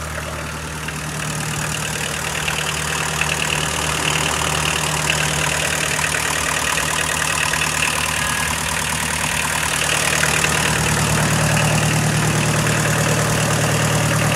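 A Kubota L2602DT four-wheel-drive tractor idles steadily close by, its diesel engine giving an even, continuous throb that rises slightly in loudness toward the end, with no talking.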